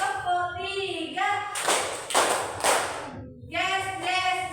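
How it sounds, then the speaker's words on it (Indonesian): A class of children stand in a primary school lesson and clap in unison, three sharp group claps in a quick, even rhythm. A teacher's voice leads before and after the claps. "tepuk 1, tepuk 2, tepuk 3"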